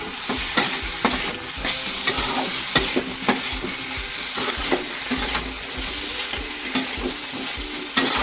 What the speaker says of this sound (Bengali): এই আলু, পটল, সয়াবিন সব একসাথে দিয়ে দেবো, দিয়ে ভালো করে মশলার সাথে কষাবো